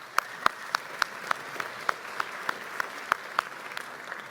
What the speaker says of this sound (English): If you guys could give them a round of applause real quick.